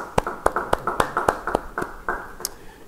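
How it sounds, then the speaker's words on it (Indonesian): Rhythmic clapping from a church congregation at a Bible study service, about ten evenly spaced claps that slow and fade slightly toward the end. "Yang percaya beri tepuk tangan bagi dia."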